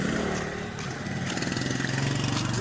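Several motorcycle engines run steadily nearby on a street in Misamis Occidental during a drivers' strike over rising fuel prices, a continuous low rumbling drone with a faint pulsing throb and no talk.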